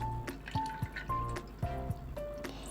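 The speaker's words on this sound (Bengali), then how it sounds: "ঘিটাকেও ঢেলে দেবো এর মধ্যে" Ghee poured from a cup into a bowl of sugar for homemade biscuit dough, giving soft close-up liquid glugs and drips with a few small taps against the bowl.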